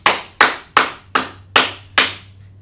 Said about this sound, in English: So clap it up for